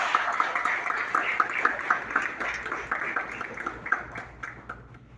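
Audience clapping steadily at a youth government swearing-in ceremony in Haiti, dense and continuous applause filling the room, fading slightly toward the end.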